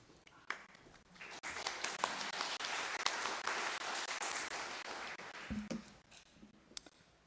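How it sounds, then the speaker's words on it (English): Audience applause for a speaker at a conference session, Akademy 2023, rising quickly and holding steady as a dense wash of clapping for several seconds, then thinning out into a few scattered claps near the end. "applause for Nate."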